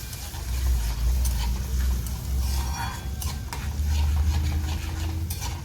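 Spinach and ground paste fry in oil for palak paneer, producing a continuous close sizzle with scraping stirs and occasional clinks of a spoon against the pan.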